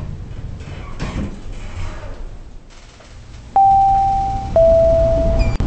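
A cheap DMG elevator's sliding door closes in the Roblox video game, a soft mechanical whoosh followed by two steady electronic tones, near and moderately loud.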